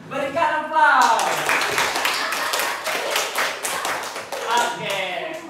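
Students in a classroom give a round of applause at the end of a lesson, a dense spell of clapping lasting about three seconds, with a voice talking just before and after.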